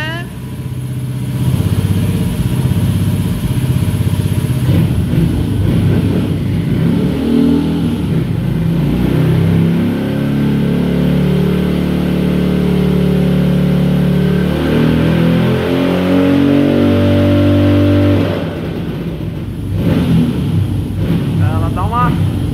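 A Honda Pop 110 motorcycle engine with a new carburetor jet revs up progressively on a test, its steady loud drone climbing in pitch over about twenty seconds, with speech-like voices faintly mixed in.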